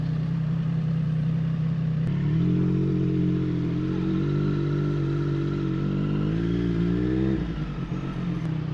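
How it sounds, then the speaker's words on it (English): A Triumph Street Triple RS motorcycle idling close by and then pulling away, its engine note rising in a steady rev before easing off, loud and alone without talk. "So I'm going to get on the bike, we're going to go for a ride"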